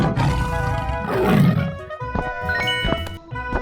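Tiger roaring in a 3D animal slide video game, a loud, rough roar that peaks early and is followed by choppy game sounds and tones.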